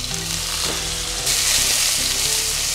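Chopped onion fries with dried chillies and curry leaves in hot oil, a loud, dense, continuous sizzle that grows stronger partway through, with a few clinks of stirring underneath.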